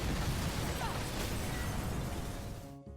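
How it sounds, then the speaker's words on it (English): A large explosion in the Mirror's Edge Catalyst video game sounds as a loud, sustained rumbling blast with crackling debris for several seconds, then cuts off abruptly near the end. "Big explosion over here."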